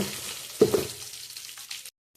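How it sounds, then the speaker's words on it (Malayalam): Mustard seeds crackle in hot sesame oil while a date and wild lemon pickle is being cooked, giving a soft sizzle with a few sharp pops near the start that fades over two seconds. "നല്ലെണ്ണ ഞാൻ ഒരു ഊണ് കടുകിട്ട് കൊടുക്കുക കടുക് നല്ലതാണ് കടുക് ഇട്ട് കടുക് പൊട്ടട്ടെ"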